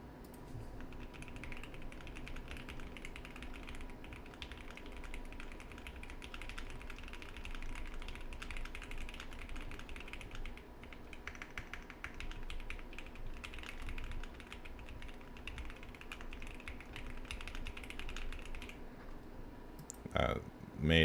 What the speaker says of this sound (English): they're trying to tell me to take a typing challenge.